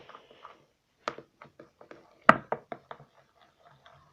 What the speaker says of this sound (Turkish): Hızlı hızlı karıştırıyorum.